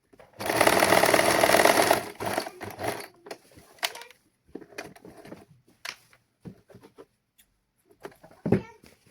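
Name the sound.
sewing machine stitching lining and saree fabric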